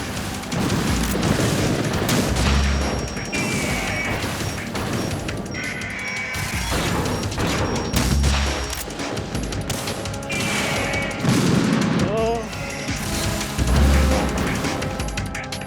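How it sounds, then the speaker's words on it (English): Loud game combat from Metal Gear Solid 2 Substance, with repeated booming missile impacts, crashing explosions and rattling gunfire bursts layered densely over about fifteen seconds, no talking heard. "Oh, it shot the missile?"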